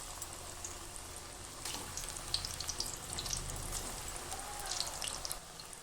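Food frying in hot oil, a soft steady sizzle with scattered pops and crackles, fairly quiet throughout with no voices.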